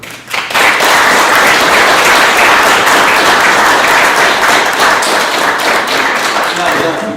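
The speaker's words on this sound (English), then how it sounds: "Thank you for clapping, brother." Graduation audience at a senior celebration breaking into loud, sustained applause after a speech, a thick, continuous roar of many hands clapping that holds steady throughout.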